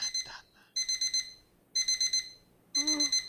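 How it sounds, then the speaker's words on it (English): An alarm clock in the game My Winter Car rings in short bursts of rapid electronic beeps, with several clusters separated by brief pauses, clear and alone. "I'm actually really glad that it's that alarm sound"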